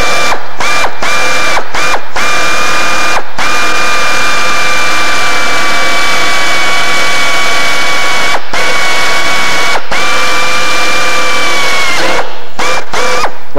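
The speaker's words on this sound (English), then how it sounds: "Now, I only really need this 9-degree drill drive in the corners." A 9-degree angle drill drive working aluminum in a tight corner of a kit aircraft's strake, a loud close high whine in several bursts of a few seconds each with short stops between, nobody speaking.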